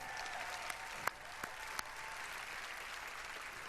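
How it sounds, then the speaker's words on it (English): Faint, distant applause from a crowd at the Bethesda E3 2016 press conference, a soft continuous patter with a few sharper claps standing out. "Could I please have another round of applause"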